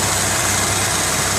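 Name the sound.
engine idling with lifter tick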